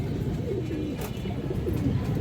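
Old-line red pigeons coo faintly amid a steady, noisy background hum, with soft calls partly buried in the din.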